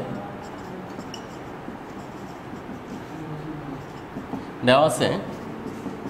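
Someone writes out an equation by pen or chalk in an online higher mathematics class: faint scratching over steady room hiss, then one short, louder scraping stroke near the end.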